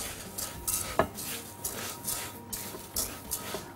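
Vermicelli being stirred in a metal pot: a spoon scrapes and knocks against the pot in uneven, close strokes, with one sharper clank.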